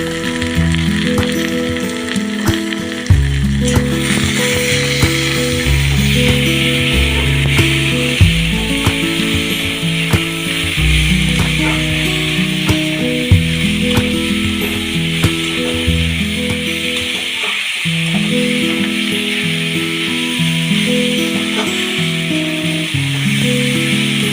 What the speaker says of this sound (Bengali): এবার এতে স্বাদ মতো লবণ ও হলুদ দিয়ে এটিকে ভালোভাবে নেড়ে চেড়ে নিতে হবে।